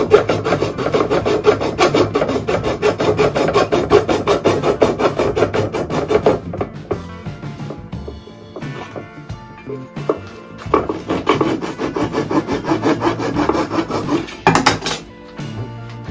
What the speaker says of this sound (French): Ça c'est une scie à raser